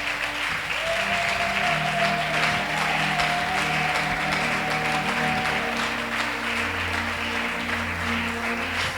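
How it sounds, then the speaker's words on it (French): A church congregation in Kinshasa bursts into sustained applause for the Lord, a dense, steady wash of clapping that runs unbroken from start to finish with a faint sustained tone underneath. "Est-ce qu'on peut acclamer pour le Seigneur?"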